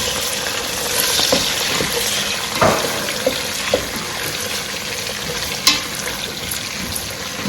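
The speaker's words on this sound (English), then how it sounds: "I'll go ahead and add my shredded onions" Shredded onions frying in a pot for a kontomire cocoyam leaf stew, a steady moderate sizzle with scattered stirring clinks and taps, close, no voices.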